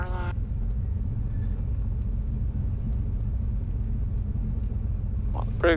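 A Cessna 195 airplane's engine runs on the runway as a deep, steady, even rumble at constant power, with brief voice bursts at the start and end.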